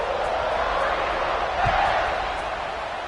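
A football stadium crowd in the NCAA 26 video game, a broad, steady roar of many voices with a slight swell midway, heard alone without distinct speech.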